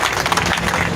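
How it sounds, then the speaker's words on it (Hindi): Audience applause welcoming a guest at a Gurjar community talent felicitation ceremony, steady clapping filling the whole short moment at fairly even loudness, with no voice over it. "जोरदार ताली बजा के स्वागत करें।"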